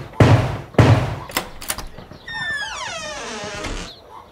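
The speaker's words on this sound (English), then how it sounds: "Let's give it a knock." Two heavy knocks thud on a wooden door beneath gold lettering, close and loud, with a few lighter taps after them and then a drawn-out rising and falling creak-like tone.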